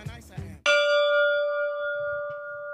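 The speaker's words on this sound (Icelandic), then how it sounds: "Þetta er bara skólabjallan." An old school bell struck once loud and close after a brief voice, its bright metallic tone ringing out with clear overtones and decaying slowly over a couple of seconds, with faint murmuring underneath.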